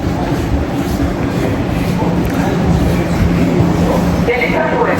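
Train ride with a steady low rumble and rattle of the carriage, with voices talking over the noise.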